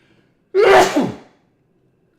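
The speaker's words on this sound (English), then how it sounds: "If bishop e6, I'm going to sneeze." A single loud, sharp sneeze bursts out close to the microphone, followed by quiet.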